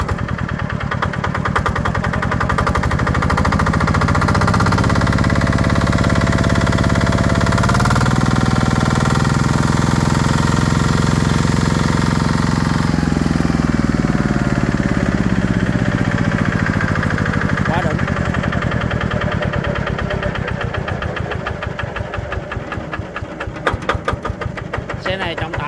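The diesel engine of a one-tonne, 660 kg tracked carrier runs loud and close for about 25 seconds, rumbling steadily with a rev change partway through, while someone talks over it.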